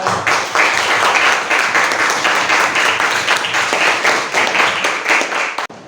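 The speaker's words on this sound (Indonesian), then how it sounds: "Tepuk tangan untuk" Loud, dense applause from a classroom of students during an Islamic studies lesson, sustained steadily for several seconds before stopping abruptly.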